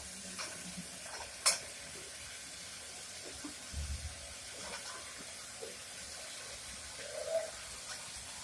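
Chopped potato, carrot and beans tip into a frying pan and get stirred, giving a faint sizzle with soft scraping strokes and a few light clatters, quiet and without talk.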